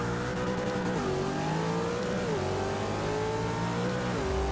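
A Nissan GT-R engine in Forza 6 revs hard and climbs through quick gear shifts, pitch rising then dropping at each change, loud and steady throughout with no talk.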